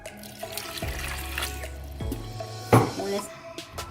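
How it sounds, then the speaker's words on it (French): A glass of water poured from a tap onto meat in a pot for an eru with spinach dish, running water with splashes, drips and a clink of cookware. "Je vais juste ajouter l'équivalence d'une cuillère à café de sel et un verre d'eau."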